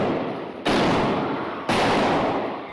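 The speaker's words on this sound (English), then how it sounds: "The gunshots sparking panic in the pews." Two sharp gunshots fired inside a Texas church during a Sunday service, each a sudden loud crack followed by a long echoing decay in the enclosed room, about a second apart.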